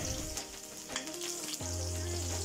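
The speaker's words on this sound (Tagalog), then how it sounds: "Isunod naman nating ilagay ang ating garlic." Garlic sizzling in oil in a pan, cooked for a bangus steak dish, with a steady frying crackle throughout and a faint tonal hum in the background.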